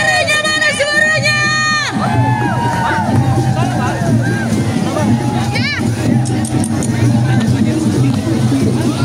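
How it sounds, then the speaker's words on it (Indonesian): A political campaign rally crowd roars with cheering and shouting, loud and dense throughout, with bright whistles or shrill calls early on and a brief whistle mid-way, under a noisy hubbub of many voices. "Mana teriakannya?"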